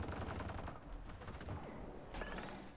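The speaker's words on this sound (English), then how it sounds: "Just keep firing." Gunfire in Mass Effect Andromeda, a dense burst of rapid sci-fi weapon shots layered over a loud, busy battle soundscape.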